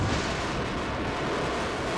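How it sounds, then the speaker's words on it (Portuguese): A deep, sustained rumbling boom from the 1492 impact of a 113-kilogram meteorite at Ensisheim, Austria, rolling loud and continuous like distant thunder. "Um estrondo é ouvido por centenas de quilômetros."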